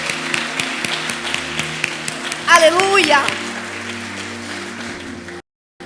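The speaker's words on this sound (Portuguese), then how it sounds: "Aplaudam ao Senhor" Congregation applauding during a Brazilian church service, a scattered patter of claps running steadily beneath a loud voice calling out in praise, with a brief sung exclamation in the middle.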